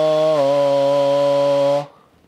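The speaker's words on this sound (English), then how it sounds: "I'm going to be singing through a snare drum" A sung voice vibrates a snare drum's wires, producing a loud, harsh buzzing drone with a steady pitch that shifts slightly early on, then cuts off abruptly near the end.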